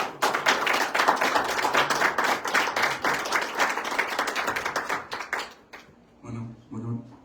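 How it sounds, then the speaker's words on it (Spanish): Audience applause at a Spanish-language astronomy talk, a dense, steady patter of many hands for about six seconds before fading into a quieter tail. "le damos un aplauso y empezamos a platicar"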